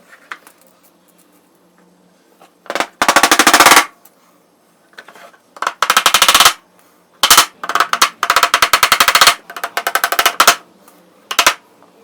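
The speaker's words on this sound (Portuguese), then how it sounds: "Esse lado já tá, eu vou pregar esse lado." Nails are hammered into a recycled wood dustpan in short bursts of rapid, sharp, close taps, with pauses between each run of blows.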